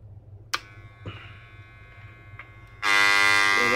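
A Wahl 300 hair trimmer under repair starts with a few clicks and short buzzes, then runs steadily with a loud, close electric hum for the last second.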